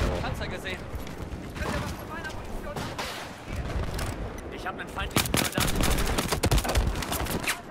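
Bursts of rapid automatic machine-gun fire in the multiplayer game Battlefield 4, rattling in fast strings that grow louder and denser toward the end.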